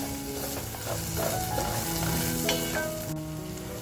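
Crushed chili-garlic thecha sautéing in a pan for village-style mutton vajdi masala, a dense continuous sizzle and frying hiss, loud and close, with faint stirring.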